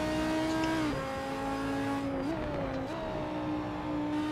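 A race car on the Kyalami circuit in Assetto Corsa cruises at light throttle, a steady mid-distance engine drone with a few small pitch shifts as revs rise and dip, no voices.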